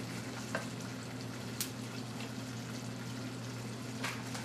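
Fishing bases being stirred in a boiling pot on a stove, with a steady bubbling and sizzling hiss and a low hum beneath, broken by a few faint scrapes and clinks over a few seconds.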